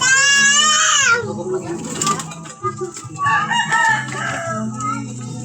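A rooster lets out a loud, drawn-out crow up close, then people talk over a noisy outdoor background with more bird calls.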